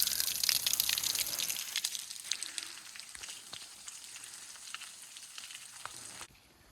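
Water drips and splashes down the rock face of a sea cave cliff, a steady close hissing patter with scattered sharper drops, no voices, and it cuts off abruptly at the very end.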